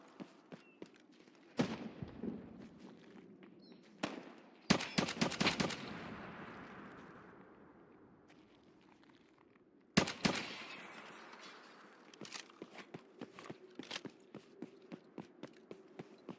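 Gunfire in the PvE shooter Escape from Tarkov: sharp single shots and quick bursts, fairly close and loud, echo across roughly sixteen seconds, with gaps between them and a run of rapid shots near the end.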